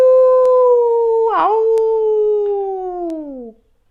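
A voice imitates a dog howling, one long sustained wavering howl with a brief break and rising wobble midway, close and loud, sliding slowly downward before stopping abruptly.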